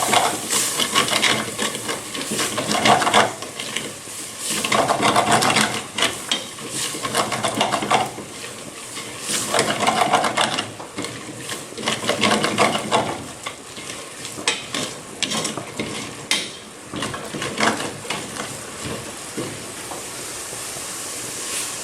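Broth being stirred in a pot to loosen the browned crust on the bottom while cooking oxtail, a steady scraping and bubbling sizzle with rhythmic surges, close and fairly loud throughout.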